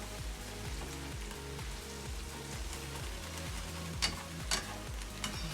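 Onions frying in a pan in a home kitchen give a steady, close hiss of sizzling oil, broken by a few sharp scrapes of stirring near the end, with a low, shifting tonal hum underneath and no talking.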